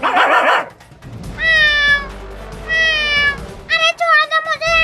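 A cat meows three times in drawn-out, rising-and-falling cries, the last a choppy run of short yowls, close and loud, with a muffled voice-like burst at the start and a low background hum.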